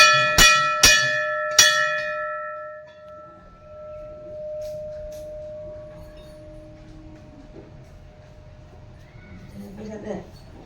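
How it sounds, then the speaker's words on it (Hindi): Three sharp metallic rings from a bell, bicycle-style, strike close together at the start and leave a long ringing tone that fades slowly, followed by faint street noise and people talking in a busy market on Independence Day. "तो घंटी बजा"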